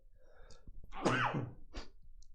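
A single sharp sneeze, close and fairly loud, with a brief inhale before it and quiet room noise around it.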